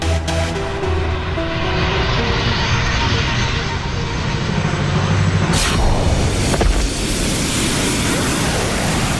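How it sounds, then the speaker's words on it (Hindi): An airplane engine roars loudly and continuously as the plane speeds up, a dense drone with whooshing surges in a superhero TV drama. "अब मैं इस विमान की गति इतनी तेज कर दूंगी"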